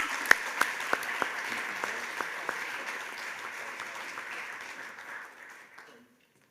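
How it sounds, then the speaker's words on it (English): An audience applauds at an Australia Day awards ceremony, a dense, steady clapping that opens with a few sharp claps, holds for several seconds and then fades away. "Big round of applause for Stephanie Evans."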